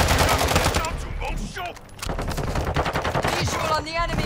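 Rapid automatic gunfire from the ISO Hemlock assault rifle in Modern Warfare 2, loud dense bursts with a short pause in the middle before the shooting resumes.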